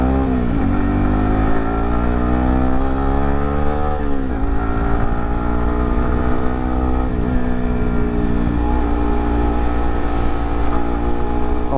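A Yamaha R15M motorcycle engine revs while riding, climbing to around seven or eight thousand rpm in the lower gears. The rising whine is loud and continuous, with dips at each gear change, and no talking.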